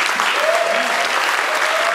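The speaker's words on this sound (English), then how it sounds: "all of us should just get up right now and give him a big applause" Sustained audience applause fills the hall at a keynote event for Appsterdam, steady dense clapping throughout with a faint tonal voice or whistle briefly rising above it.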